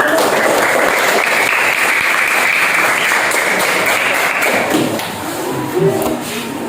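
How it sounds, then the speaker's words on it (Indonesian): A classroom group claps for a student group called up to the front, producing loud, dense, continuous clapping that thins slightly near the end. "Tepuk tangan dulu untuk kelompok Mas Evan"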